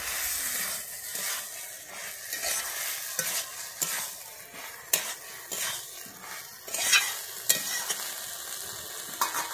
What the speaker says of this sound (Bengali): আমি এরপরে দিয়ে দিচ্ছি ভেজে রাখা চিংড়ি মাছগুলো, দিয়ে আমি একটু ভালোভাবে নেড়ে নিচ্ছি।